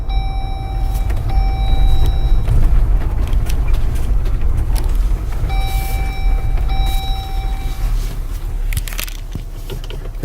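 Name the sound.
Jeep Wrangler JL driving forward and turning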